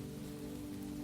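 Steady rain falls in a Spanish courtyard, a continuous, even wash of drops on surfaces with no breaks and no voices.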